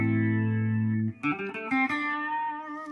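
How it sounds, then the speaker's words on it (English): An electric guitar plays through effects with rotary modulation, chorus, reverb and delay: a sustained chord rings, then quicker plucked notes swirl and shimmer with lingering echoing tails. "this modulation is a freaking rotary. Yeah. And there's chorus, and there's reverb, and there's delay"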